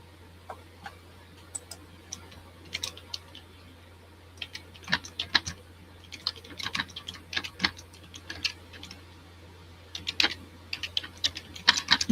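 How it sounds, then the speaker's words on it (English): Quick bursts of keystrokes clatter on a computer keyboard, close and crisp, arriving in irregular clusters with short pauses between them. "type it in"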